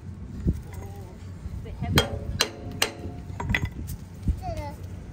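A hammer knocking a wedge onto a plough, several sharp metallic strikes spaced irregularly, close and ringing, while people talk nearby.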